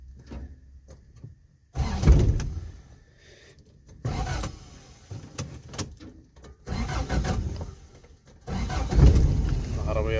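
An Arabic-speaking driving instructor starts a car that has been sitting cold, with the engine cranking and catching in several loud bursts separated by pauses.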